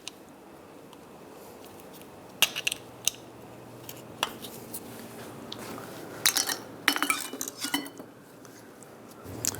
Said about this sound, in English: Just pop these off with a screwdriver or a pick